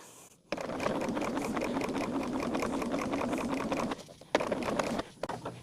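A domestic sewing machine stitches fabric at a slow, even pace for a small manicure-set project. It runs as a close, steady rhythmic whir, pauses briefly near the end, then resumes with a few short stitches.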